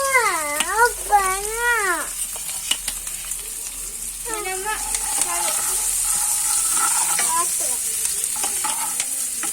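Sliced onions fry for prawn roast in a pan, giving a steady close sizzle that grows denser over time, while a voice speaks over the start of it.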